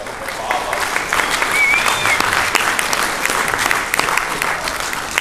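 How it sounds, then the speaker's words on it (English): Audience applause at an animated costuming panel, steady dense clapping throughout with a brief whistle or cheer rising above it partway through. "Let's go ahead and give him a big round of applause."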